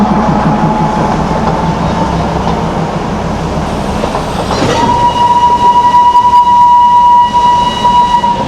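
A diesel toy train of the Darjeeling Himalayan Railway pulls into Ghum station with a steady low rumble of the engine and wheels, then a loud sustained horn blast sounds over it for the last few seconds.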